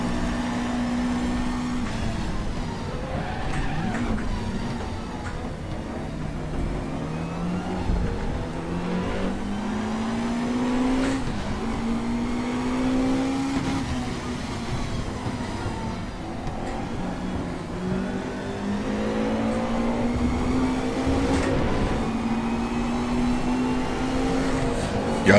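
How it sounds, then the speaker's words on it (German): A 1992 Mercedes 190 EVO II DTM race car engine in a racing game revs hard and continuously at the Nürburgring, pitch climbing through the gears and dropping at each shift, loud and close for the whole stretch. "der Sound hier von dem 190er Sektor 3 typisch wirklich vom Feinsten."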